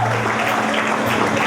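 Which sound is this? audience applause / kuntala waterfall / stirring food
audience applause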